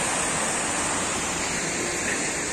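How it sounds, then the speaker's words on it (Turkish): A small waterfall on a high-altitude hillside where salep grows gives off a constant, dense rushing hiss of falling water, steady and unbroken with no voices. "Şurada da şelale oluşmuş."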